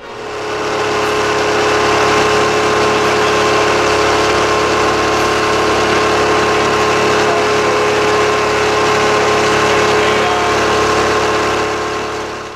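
The engine of a Twin Shark HpH 304 motor glider drones loudly and steadily in climbing flight, a constant buzzing roar with a sustained tonal whine and no pauses or voices.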